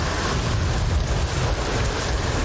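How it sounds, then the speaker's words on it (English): Storm-driven ocean waves from the film Cast Away, a loud, continuous roar of crashing surf and wind that holds steady and close throughout. "The waves are going insane"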